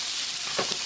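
Onion and garlic fry in a hot pan for curry fried rice, a close, steady hiss of sizzling oil with a brief surge of crackle partway through.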